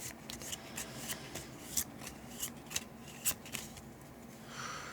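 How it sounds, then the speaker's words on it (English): A deck of cards for the Fort board game is shuffled by hand, with soft riffling, rubbing and intermittent sharp card snaps, quiet and close with no talking. "And then they will shuffle the discard into the deck."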